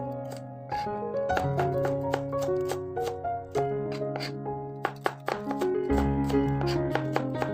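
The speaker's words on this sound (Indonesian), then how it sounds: "Di sini saya bakal iris 5 siung bawang merah." A knife slicing five shallots on a cutting board, a run of crisp, rapid chopping taps in irregular bursts, close and clear with no talking.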